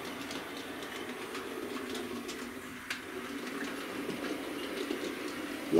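Hornby West Country class model locomotive running steadily on its track, a continuous close whirring rumble with faint clicks over the rails, no talking.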